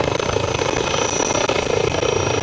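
A helicopter flies in Modern Warfare 2's Invasion mode, its steady, loud rotor and engine roar filling the whole stretch without pause.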